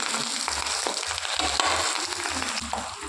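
Pepper, cumin, green chili, ginger and curry leaves fry in ghee in a pan for millet pongal, a continuous soft sizzle with rhythmic stirring and scraping thumps, close up and without talk.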